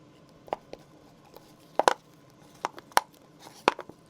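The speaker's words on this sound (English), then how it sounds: "Sorry for that crinkle noise with the cup." Plastic cup crinkling while resin is scraped out of it, heard as a handful of sharp, close crackles and clicks spaced irregularly over a quiet background, with no talking.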